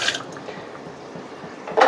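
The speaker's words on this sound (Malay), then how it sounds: "Kita akan masukkan air." Water is poured into a pot for a simple chicken soup, a soft continuous liquid splash and trickle close by, ending with a louder burst of pouring.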